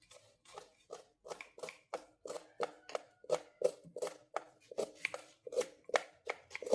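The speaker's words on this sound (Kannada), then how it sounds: "ಮೊದಲಿಗೆ ಈರುಳ್ಳಿಯನ್ನು ಕಟ್ ಮಾಡ್ತಾ ಇದ್ದೇವೆ." A knife chops onions on a cutting board in a steady, even rhythm of sharp close taps that continue for several seconds with little else around them.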